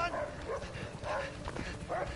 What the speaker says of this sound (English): They set the dogs on us.